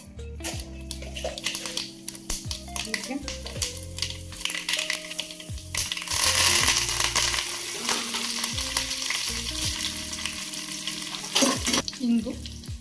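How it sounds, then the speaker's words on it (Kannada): Mustard seeds spluttering in hot ghee for a Karnataka-style bisibele bath tempering, with dense crackling pops that swell midway, over steady background music. "ಸಾಸಿವೆ ಹಾಕ್ತೀನಿ."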